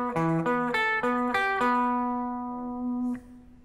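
A guitar lick plays a quick run of clear picked notes in a string-skipping, alternate-picking pattern, then ends on one note held ringing and fading until a soft click. No voice is heard.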